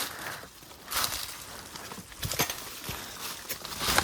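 Several sharp hoof clops on hard ground, irregular and fairly close, against a faint outdoor background.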